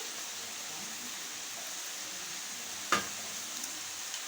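Onion, ginger-garlic paste and green chillies frying in a pot for chicken malai handi, a steady soft sizzle throughout with one sharp clink near the end.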